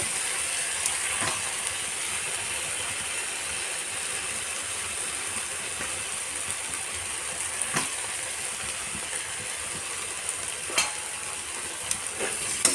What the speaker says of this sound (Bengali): এর মধ্যে আলুগুলো দিয়ে একটু কষিয়ে নেব